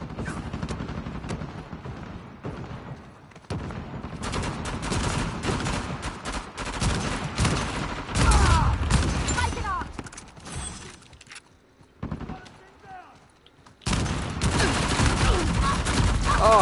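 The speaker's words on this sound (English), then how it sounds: "the P90 blind fire from Tom the Amazing" Rapid P90 blind-fire gunfire from the Uncharted 4 video game, dense bursts of shots with shattering impacts filling most of the stretch, briefly thinning out before resuming loud near the end.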